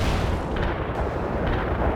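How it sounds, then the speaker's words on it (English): Artillery barrage in the World in Conflict video game: a dense, continuous roar of rumbling blasts and booms, loud and close, filling the whole stretch without any voices. "Artillery barrage."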